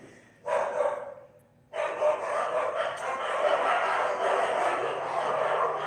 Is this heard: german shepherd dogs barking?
yes